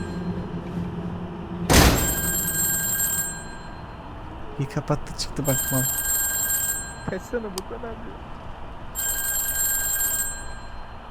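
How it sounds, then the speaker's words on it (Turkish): Telephone ringing in the horror game Dark Hours: Prologue, a loud electronic bell in repeated bursts with pauses between rings, heard under a thud and excited talk from players. "telefon çalıyor aç"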